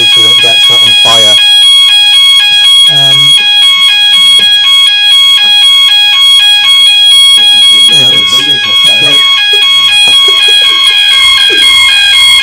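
A building fire alarm blares during a live election debate, a loud, piercing electronic tone with pulsing repeats that drowns out the room for the whole stretch.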